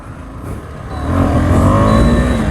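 KTM 390 Adventure motorcycle engine running close by, a low idle that rises into a steady, stronger drone as the revs climb and hold, with a faint whine over the rumble.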